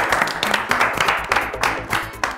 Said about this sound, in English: Now show everyone at home a round of applause for Kavindu.